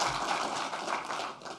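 Applause from the audience at the closing and CTF prize ceremony of a security conference, a dense, steady wash of clapping across the short stretch with no voices.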